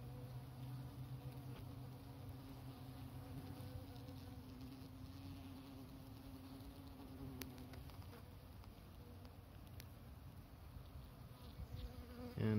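Honey bees buzzing inside an opened mating nuc hive, a dense, steady drone of many insects close by, continuous throughout with a couple of faint clicks.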